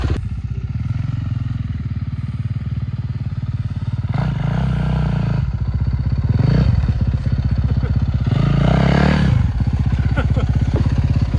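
A motorcycle does a podium burnout, its engine clattering loudly and continuously with surging revs, close and dominant, while people talk over it.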